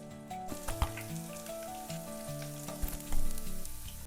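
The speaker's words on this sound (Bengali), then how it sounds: "তেল গরম হয়ে আসলে এবার অল্প অল্প করে দিয়ে পকোড়ার মতন ভেজে নিতে হবে।" Cabbage and chicken skin pakoda pieces fry in hot oil with a steady close sizzle, joined by clinks and stirring knocks, while a tonal melodic layer runs underneath throughout.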